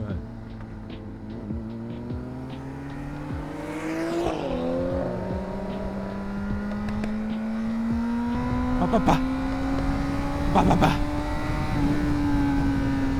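Motorcycle exhaust popping and crackling over a steady engine drone, with sharp bursts around the middle and near the end as the bike runs, a voice talking intermittently underneath.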